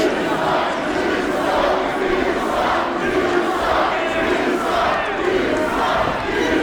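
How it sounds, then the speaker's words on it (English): A hot crowd at a PPW professional wrestling show in western Canada jeers a heel wrestler, a loud sustained roar of many voices swelling in repeated waves. "This crowd is hot and they hate Sidney Steele."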